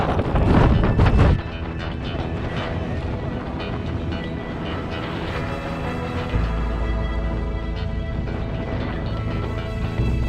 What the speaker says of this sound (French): il y a un vent là